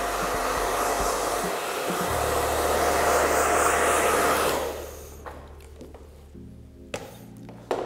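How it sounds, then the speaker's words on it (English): Handheld hair dryer blowing on freshly conditioned hair, a loud steady rush of air for about four and a half seconds that then cuts off, leaving small taps and handling sounds. "I'm just going to dry that in a little bit."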